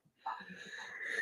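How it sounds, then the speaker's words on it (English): A person yawns once, a drawn-out breathy exhale that swells and lingers near the microphone, with no talk over it. "I don't know why I'm yawning so much today."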